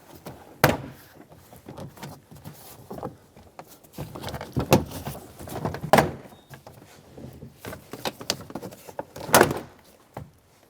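Trim clips pop loose from a 2011-2020 Toyota Sienna sliding door panel in a series of sharp, close snaps and thunks, spaced irregularly between quieter plastic rustling and handling noise.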